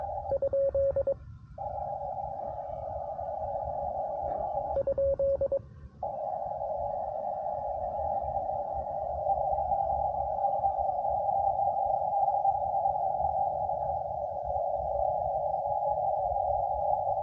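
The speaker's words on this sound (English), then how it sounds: "now somebody tuning up" A steady electronic tone hums on, briefly dropping out twice near the start, then holding unbroken like a signal tuned in over static; a station tuning up on the 10-meter amateur band, heard on a QRP Labs QMX radio.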